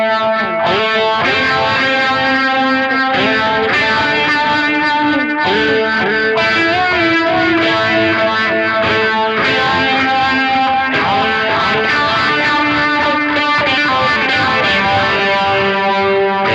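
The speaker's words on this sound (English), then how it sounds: "I don't feel like this distortion wants to be like a light overdrive." Electric guitar played through a Third Man Triple Threat distortion pedal, thick, saturated chords and riffs ringing continuously and loud with no pauses, heavily driven rather than a light overdrive.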